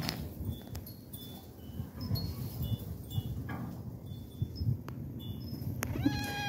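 A cat meows softly several times, faint, thin calls scattered over quiet indoor room noise.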